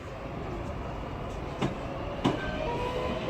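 A train pulls out of Lewisham station with a steady, loud rolling rumble, and two sharp wheel clacks stand out partway through. No voices are heard.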